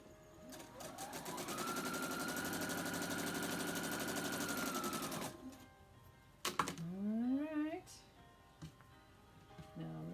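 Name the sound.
sewing machine sewing quilt fabric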